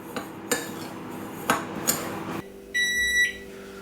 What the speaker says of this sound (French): Et là, je vais mélanger tout ça.